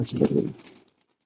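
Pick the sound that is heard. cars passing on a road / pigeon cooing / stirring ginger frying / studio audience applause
pigeon cooing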